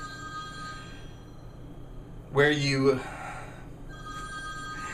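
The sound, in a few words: phone ringing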